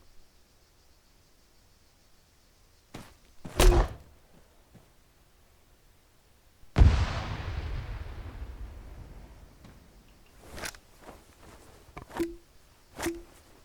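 Video game weapon fire with airburst rounds: a sharp close blast, then a big explosion that booms and slowly decays into a rushing noise tail, followed by several fainter bursts and pops, with no talking.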